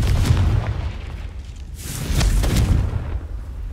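A fiery blast spell in a Harry Potter video game goes off as a deep booming explosion with rumbling low-end bursts, rising again midway, loud and close.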